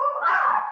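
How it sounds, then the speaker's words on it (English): A dog lets out a single short whining bark or yelp, close and fairly loud, with no talk over it. "Someone has a dog."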